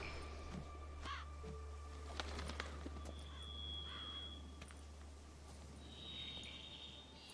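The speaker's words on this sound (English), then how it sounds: "What was that? A raven?" Raven cawing in the video game The Witcher 3: Wild Hunt, a few short harsh calls rising over steady outdoor game ambience, with faint horse hoof clops nearby.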